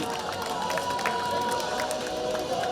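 Crowd applause and cheering at a youth football tournament closing ceremony for the runner-up Polish Cup team, a dense, fairly distant wash of clapping and shouts with children's voices mixed in.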